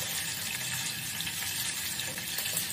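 Mustard seeds, crushed garlic cloves and curry leaves crackle and sizzle in hot oil, a steady dense frying hiss with scattered pops.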